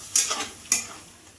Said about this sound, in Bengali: আবার একটু নাড়িয়ে নেব ভালোভাবে।